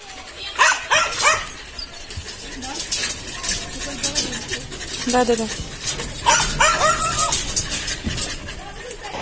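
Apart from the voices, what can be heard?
dogs barking and whimpering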